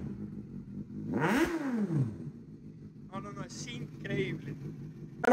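A Suzuki GSX-S 750 motorcycle engine at idle gets one sharp throttle blip that climbs and falls back, followed by a few shorter rev bursts and clattery mechanical noise nearby.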